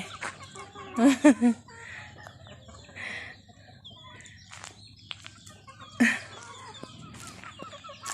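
Chickens cluck in short bursts nearby, with a louder squawk early and another later, over a steady outdoor background.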